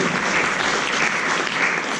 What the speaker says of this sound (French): je voudrais qu'on applaudisse Fatima très fort, mesdames et messieurs